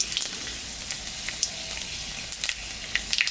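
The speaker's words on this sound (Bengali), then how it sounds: "আমি সর্ষে বেগুন রান্না করার জন্য শুকনো লঙ্কা আর পাঁচফোড়ন সম্বরা দিই।" Dried chillies and panch phoron tempering sizzling in hot mustard oil in a kadai, a steady crackling fry with small pops and spits.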